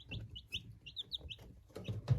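Newly hatched Marans chicks cheep in quick, high, repeated peeps, close by and fairly faint, with soft rustling and shuffling underneath.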